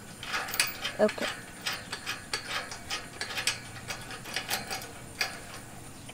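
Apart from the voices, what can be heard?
twisting a wrench to tighten a gate opener bracket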